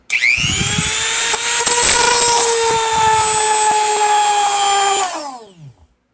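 A spinning rotary tool friction welding plastic lets out a loud, close, steady high whine for about five seconds, then its pitch drops away as the tool spins down, with faint grinding underneath.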